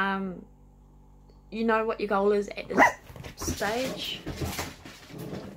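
Dogs bark a few times in the background while a person keeps talking over them, along with some bumping household noises.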